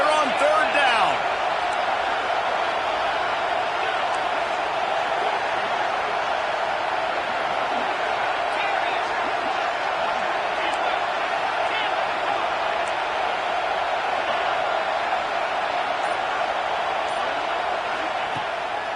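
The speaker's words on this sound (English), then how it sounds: "This Auburn crowd trying to conjure up a little magic here on third down" An Auburn football stadium crowd on third down keeps up a steady, distant roar, the broad cheering sustained evenly throughout beneath a commentator's voice.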